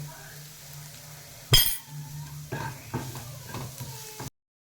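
Small black beans are tipped into a hot pan of onions and oil for beans palya, a sharp clatter followed by sizzling frying and a few stirring clinks, close and moderately loud.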